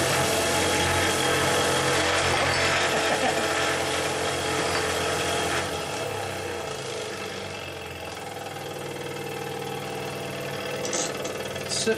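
A Jensen 70 model steam engine, run from a 110-volt transformer, revving hard at full throttle with a steady dense mechanical whir and rattle that eases slightly midway, then climbs again, loud and close with no talk.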